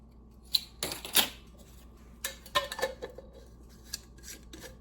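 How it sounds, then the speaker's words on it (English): A spoon scrapes and clinks around a pot of apple butter as vanilla gets stirred in, giving several short, scratchy bursts that come close together and then irregular lighter taps. "And then we'll just mix this right up in there. Give that a good stir."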